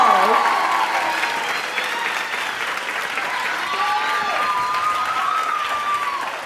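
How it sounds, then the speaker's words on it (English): Sustained applause from a large crowd after a K-pop dance showcase, loud and steady throughout, with faint voices and whistle-like tones rising above the clapping. "give this wonderful crowd another big round of applause for that fantastic show"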